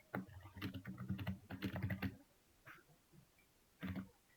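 Keystrokes on a computer keyboard as a git init command is entered in a terminal. A fast burst of clicks is followed by a pause, one soft tap, and a final short cluster of keys.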